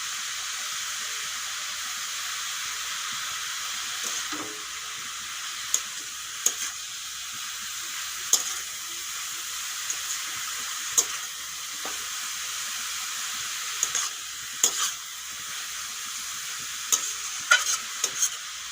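Grated papaya sizzles steadily in a frying pan, with a constant hiss of frying broken by sharp clicks and scrapes as it is stirred often; no talking.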